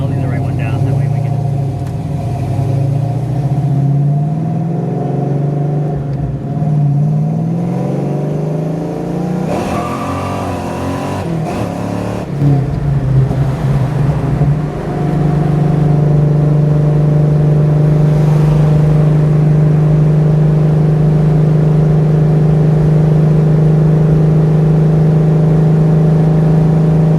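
A supercharged 1993 Ford Mustang Fox Body pulls hard from inside the cabin, its engine drone rising steadily and loud for most of the run, with a brief shift break midway and a voice talking at times over the noise.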